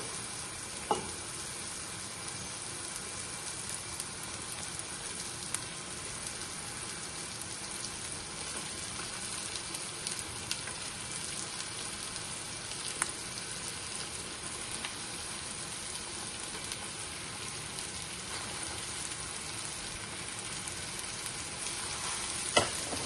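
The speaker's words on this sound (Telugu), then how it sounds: "ఇప్పుడు ఫిష్ పీసెస్ వేద్దామండి" Fish pieces fry in a pan for a Telangana-style chepala iguru, giving a steady, even sizzle and crackle that carries on unbroken for over twenty seconds with no voices.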